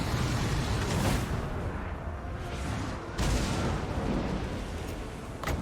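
Gunners on castle walls fire volleys in a Total War: Warhammer 2 battle, heavy booming shots and blasts bursting irregularly over a dense rumbling din of combat.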